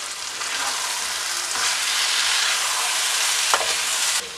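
Kerala-style chicken roast sizzles in a pan as garam masala is stirred in, a dense, bright continuous hiss close up, with two brief scraping knocks of the spoon partway through.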